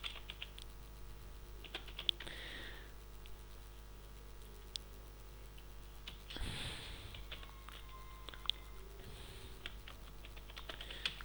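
Keys clack on a computer keyboard in light, sporadic bursts over a steady low background hum, with a few louder taps and a brief noisy rustle near the middle.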